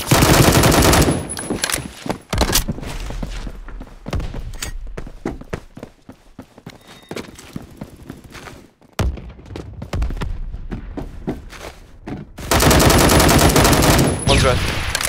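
Loud, dense gunfire in the Metro video game, sustained automatic bursts that come in heavy waves and thin out in the middle, with a player talking over parts of it.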